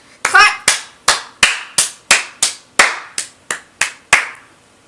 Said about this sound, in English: And then there's a big clap.